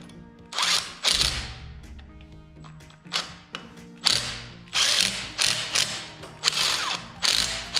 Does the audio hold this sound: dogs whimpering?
no